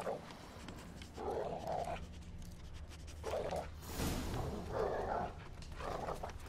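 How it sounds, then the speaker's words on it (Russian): A dog in The Witcher 3 sniffs and pants in short bursts of breathy huffing, separated by quieter gaps, set low and close against a faint game ambience. "Это же добрая собачка"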